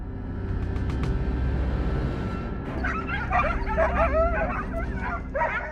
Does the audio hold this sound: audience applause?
no